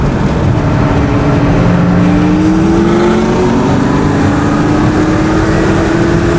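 A 650 HP Corvette C7 Z06 races a Porsche Turbo, their engines roaring loudly and continuously with steadily rising revs throughout, and no voices.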